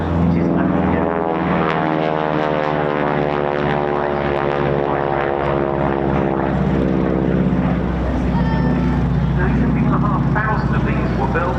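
A T-6 (AT-6) propeller trainer passes at an air show, its loud rasping radial-engine drone rising and then fading as it flies by, with a commentator talking over it throughout.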